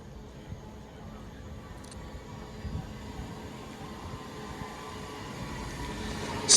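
A Class 390 train, City of Lichfield, runs at Wigan North Western station as a steady low rumble and hiss of a nine-coach train rolling through, with brief high squeals and the sound rising toward the end.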